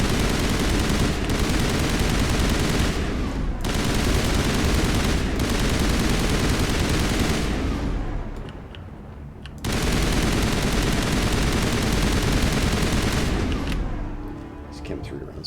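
Sustained automatic weapon fire from the video game Mass Effect rattles loudly in long continuous bursts, cut by a couple of brief pauses before it resumes just as dense.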